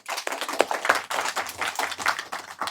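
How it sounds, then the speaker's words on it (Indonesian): Audience clapping at a religious talk, a brief burst of hand claps that comes close and fairly loud, with quick uneven claps running throughout and no voices over it. "Kalau gitu tepuk tangan dong."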